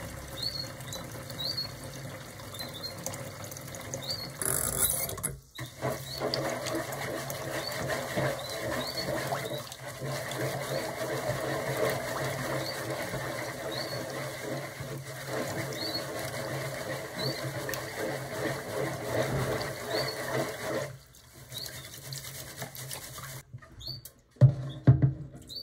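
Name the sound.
rinsing rice in water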